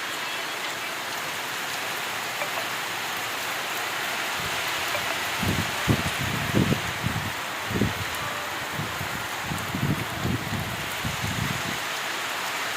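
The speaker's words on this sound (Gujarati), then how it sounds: "ચાલુ જ છે વરસાદ તમે જોવો" Steady rain hisses throughout, with a cluster of heavier drops or patters landing on a nearby surface partway through, and no voices.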